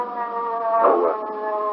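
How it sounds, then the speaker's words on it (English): An ambulance siren in a police radio drama wails steadily in sustained, wavering tones, rising to a louder swell midway before settling back, with no voices over it. "Here's the ambulance."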